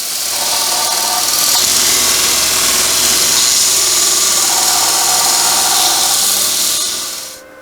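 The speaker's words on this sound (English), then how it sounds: "We're going to grind a V on this and try welding 1/2 inch steel with the V." A power grinder cuts a V groove into half-inch steel, a loud, steady high-pitched whine with abrasive rasping that holds for about seven seconds before winding down.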